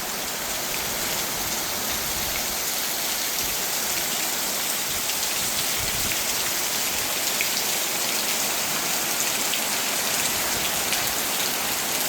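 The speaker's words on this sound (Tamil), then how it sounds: "நீண்ட நாளை பிறகு மழை பெய்யுது." Heavy rain pours down steadily in the Vanni forest, a dense, continuous hiss of drops on leaves and ground that stays loud and even from start to finish, with no voices.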